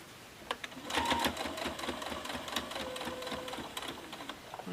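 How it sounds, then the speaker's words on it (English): A Baby Lock Jubilant sewing machine stitches through several fabric layers, its needle running in a steady rapid mechanical rhythm, close and clear, with faint handling noises around it. "I love that the Baby Lock Jubilant is handling these layers."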